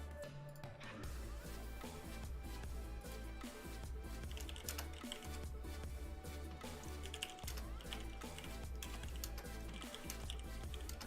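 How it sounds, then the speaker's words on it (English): Loud computer keyboard typing, dense rapid key clicks in continuous bursts, close to the mic, with music playing underneath. "Apologies for my loud-ass keyboard."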